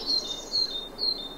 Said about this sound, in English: There we go, another sort of song of a great tit.